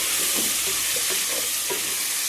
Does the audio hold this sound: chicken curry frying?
yes